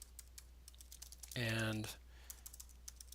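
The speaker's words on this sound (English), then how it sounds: "We just got to finish typing up what we said there" Someone types on a computer keyboard, with quiet, steady key clicks running throughout and a brief voice speaking partway through.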